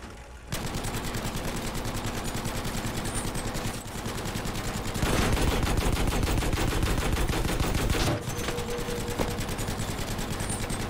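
Sustained rapid machine-gun fire from a Staghound armoured car in the video game Battlefield V, loud and continuous with only brief breaks, a steady rattling stream of shots close up.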